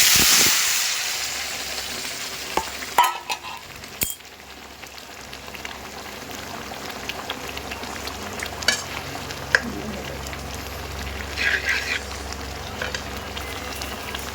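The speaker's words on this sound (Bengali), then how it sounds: "এবার ডালটা ঢেলে দেবো।" Lentil dal for a jute-leaf (pat shak) dal poured into a hot pan, a bright splash and hiss at the start settling into steady sizzling with a few soft stirring knocks, no talk.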